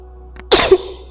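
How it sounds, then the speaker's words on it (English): A single sharp sneeze from a person during a yoga session bursts out close and loud after a faint intake of breath, then trails off quickly in a quiet room. "there's that sneeze, sorry."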